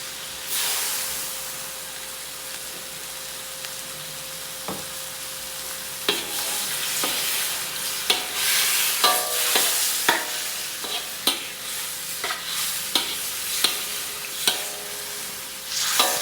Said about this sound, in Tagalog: Gusto ko lang siyang haluin para yung lasa ng toyo na nilagay namin dito